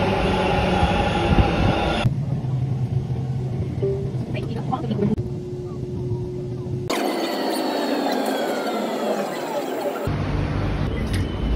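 Bangalore metro train running, with steady rolling rumble and rail noise changing in character as it moves through sections, a brief sustained tone, and faint wheel squeal, continuous and close throughout.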